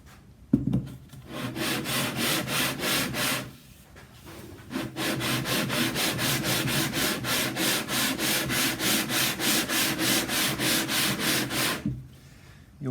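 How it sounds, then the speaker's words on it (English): Hand sanding of a wooden guitar mold top: long, even back-and-forth rasping strokes in a steady rhythm, close and fairly loud, with a short pause near the start and silence at the end. "come back and sand some more"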